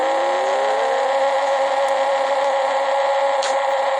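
A Mini Cooper engine in the Pixel Car Racing video game whines steadily, rising briefly in pitch at the start before holding an even synthetic drone, loud and continuous with no talking.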